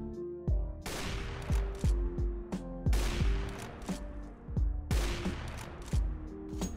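Repeated bursts of rifle fire in CS:GO on de_nuke, shots punching through a wall between two silos at bomb site A, sharp cracks clustered in several volleys with ringing tails, loud and close, no voices.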